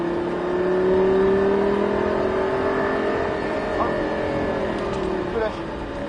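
A Lamborghini LP560 on the Folembray race circuit pulls hard with a loud rising engine whine that climbs steadily and dips briefly at a gear change, while an instructor speaks in the cabin over the engine noise.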